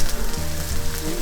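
Burgers frying in a pan on maximum heat, giving a steady, close crackling sizzle that fills the short moment without speech.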